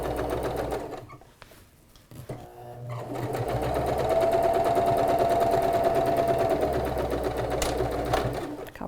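A sewing machine runs backward and forward stitches on a fabric pencil case, its motor whirring in close bursts with a brief pause between runs.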